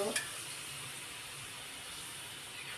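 Green chillies and onions frying in a pan, a steady hissing sizzle close by after a brief clatter as they go in.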